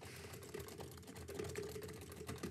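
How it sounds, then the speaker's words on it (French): Rapid typing on a computer keyboard with mouse clicks, a busy stream of light clicky keystrokes at an uneven rhythm, close and moderately quiet, with no talk over it. "On va faire encore une fois le test avec le clavier et la souris."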